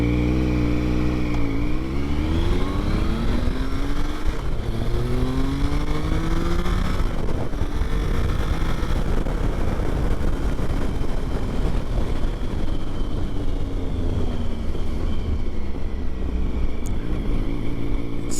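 A Triumph Tiger 955i motorcycle engine drones through a ride, rising and falling in pitch as the rider shifts through gears, loud and close with steady wind noise throughout.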